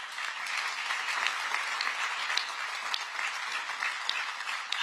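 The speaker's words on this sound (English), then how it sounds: "I think that gets a round of applause" An audience at a public event with political speakers bursts into sustained applause, a dense, even wash of many hands clapping that stays loud and steady throughout.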